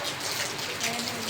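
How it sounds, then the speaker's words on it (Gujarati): Rain falling in Surat makes a steady, dense hiss of drops on surfaces, continuous and even throughout, with no voices over it. "જરા જો મિત્રો વરસાદ સુરતમાં ચાલુ છે"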